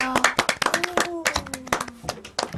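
Live studio clapping on a Korean radio show just before a song performance: a handful of close, sharp, uneven hand claps while people talk and laugh over them.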